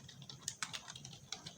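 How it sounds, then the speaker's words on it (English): Quick, light clicks of typing on a computer keyboard, a short irregular burst of keystrokes heard close and fairly faint, with no voice. "start our server or run our server by typing npm"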